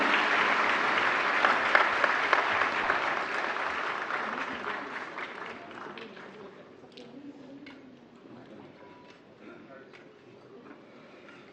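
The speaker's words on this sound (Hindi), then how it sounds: "जोरदार तालियों से सभी पुरस्कार विजेताओं का मनोबल बढ़ाएं" An audience applauds award winners at the National Awards for the Empowerment of Persons ceremony with President Droupadi Murmu, loud dense clapping that gradually thins and fades into scattered claps and quiet room noise.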